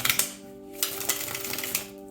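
Tarot cards being shuffled during an Aries reading, a quick papery riffle of soft flicks and taps in short clustered bursts, close and fairly quiet, with steady faint background hum and no talk.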